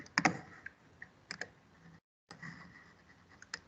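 Sparse, uneven clicks and taps of typing on a computer keyboard, faint and close, in a few scattered bursts with a short silent gap between them.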